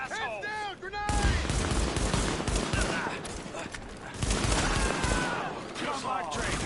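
Heavy gunfire in a Tom Clancy shooter video game, loud continuous bursts of rifle and machine-gun shots with booming impacts, close and sustained, while voices shout over the firefight.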